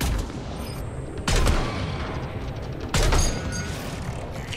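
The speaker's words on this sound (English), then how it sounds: "Point blank range sniper shot." Two loud, close sniper rifle shots sound about two seconds apart in Mass Effect 3, each a sharp crack with a lingering boom over a steady game background.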